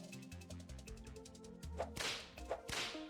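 Whip weapons cracking in Terraria with the Calamity mod, a run of sharp snapping strikes over busy game music, growing louder and more frequent toward the end.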